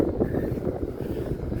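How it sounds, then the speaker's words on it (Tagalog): Strong wind buffets the microphone on a riverwalk in Valenzuela City, a steady low roaring rush with no voices. "Sobrang hangin eh."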